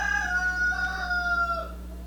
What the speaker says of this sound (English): can you hear my rooster? He's the younger rooster, the cockerel.